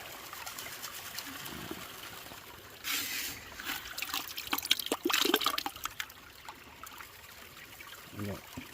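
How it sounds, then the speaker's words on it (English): Water gushes through a gold prospecting sluice set up outdoors, a steady rushing and trickling flow with louder splashing bursts midway. "It builds up the water a little bit, so we got nice strong flow."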